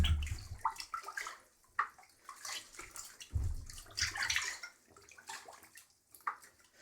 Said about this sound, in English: you can hear those bubbles. Just air keeps on coming out.